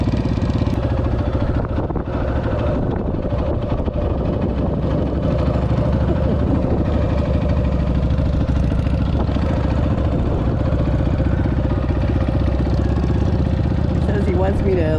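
A motorcycle engine runs steadily and loud throughout during an advanced rider training class, a continuous low rumble with a person talking over it.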